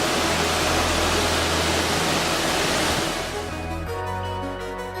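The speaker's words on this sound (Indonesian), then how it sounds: "Air terjun ini terletak di sebelah timur perkebunan teh Pabilaran, Kecamatan Belado, dengan ketinggian kurang lebih 5 meter membelah batuan berlapis." Curug Arjuna, also called Curug Pinorong 3, a waterfall about 5 m high that splits layered rock east of the Pabilaran tea plantation in Belado, pours with a loud, steady rush that eases and thins in the last second or so.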